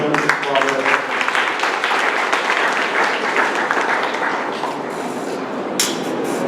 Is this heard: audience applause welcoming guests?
yes